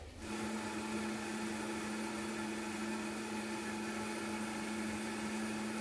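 A blender with chicken broth in it whirs steadily and loudly with a strong motor hum, running continuously after a brief start-up.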